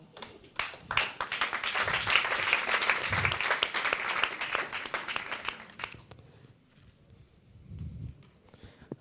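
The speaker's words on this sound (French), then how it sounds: "Découvrons donc le temps qu'on l'applaudisse pour qu'il se rende dans le cercle blanc." A studio audience claps for a contestant taking the stage at a televised talent show, a busy burst of hands that swells and then fades out midway, leaving quiet room noise with a few low thumps.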